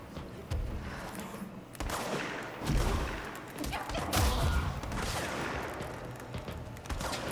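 Gunfire in the action video game Control: a sustained barrage of game weapon shots and thuds rolling on for several seconds, dense and loud, with heavier bursts around the middle.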